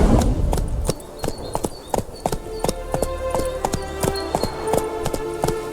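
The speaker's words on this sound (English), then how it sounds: "Spooking my horse." Horse hooves in The Witcher 3: Hearts of Stone, a steady run of close, crisp clip-clop beats at a brisk rhythm, with a soft musical tone held underneath.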